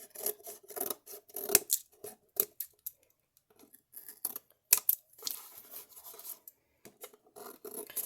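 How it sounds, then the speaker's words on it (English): Scissors trimming excess decorative paper from a covered tool caddy: quick rasping snips and paper rustles in short, irregular bursts, close and quiet. "Okay, so I'm going to trim off all my excess."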